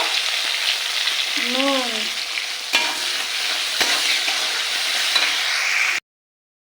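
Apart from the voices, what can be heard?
chopped tomatoes frying with onions in a pan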